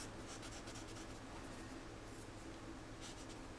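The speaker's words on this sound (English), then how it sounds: "I'm going to make a bunch of little tiny lines to make it look like gravel" A pencil scratches out many little tiny strokes on paper to shade gravel in a drawing, a faint, steady, close-up scratching with brief brighter flicks of quick marks and no talk.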